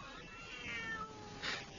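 A cat meows in a home setting, two drawn-out mid-pitched calls close to the listener over a steady low background hum.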